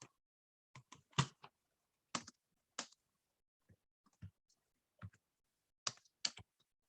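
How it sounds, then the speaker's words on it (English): Scattered keystrokes on a computer keyboard come in short, irregular bursts with quiet gaps between them, close and clear with no talking. "I'm going to type in the chat"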